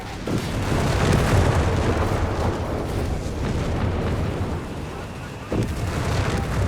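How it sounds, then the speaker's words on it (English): Artillery shells bursting over infantry positions in a Company of Heroes 3 match, a loud continuous rumble of overlapping booms with a fresh blast near the end. "here we see MSC's positions basically being undermined by artillery"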